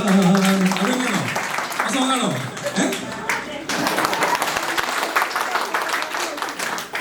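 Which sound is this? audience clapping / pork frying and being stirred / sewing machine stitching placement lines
audience clapping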